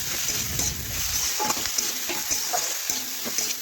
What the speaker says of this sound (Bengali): দেখুন এইভাবে নাড়াচাড়া করে সবজি একটু ভেজে নিচ্ছি।